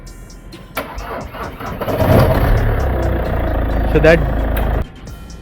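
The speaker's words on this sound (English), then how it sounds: "that jerking noise is actually flywheel" A Chevrolet Cruze is started: after a brief word, the engine cranks and catches, then runs loud and rough with an uneven jerking from a faulty flywheel, and it cuts off abruptly near the end.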